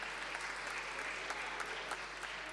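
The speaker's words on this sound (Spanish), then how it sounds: "creo que aplauden" Audience applause during a press briefing: a dense, continuous patter of many hands clapping, even and fairly distant, holding steady for a couple of seconds without voices on top.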